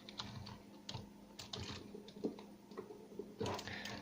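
Quiet computer keyboard typing during a gaming session, with soft, close key clicks arriving in irregular bursts under a faint background hum, and no talking.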